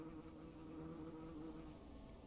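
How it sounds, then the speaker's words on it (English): Bees buzzing in the survival video game Bellwright, a steady, faint droning hum that holds without pause and has no talk over it. "What's with all the bees?"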